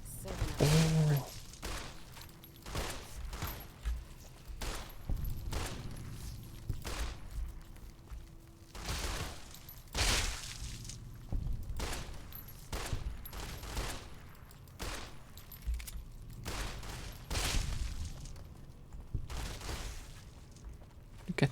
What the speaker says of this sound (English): I knew you were shooting.